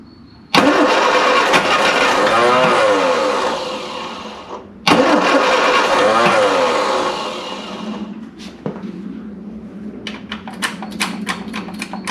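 A classic Mini van, off the road for 25 years, cranks with a loud rhythmic starter whir in two long bursts, then catches briefly and sputters, followed by a low uneven idle with sharp clicks.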